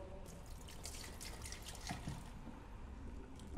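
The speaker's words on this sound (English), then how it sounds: "Add some water." Water runs and trickles into a sprayer tank being filled to mix a disinfectant, a steady close splashing and dribbling that continues throughout without any voices.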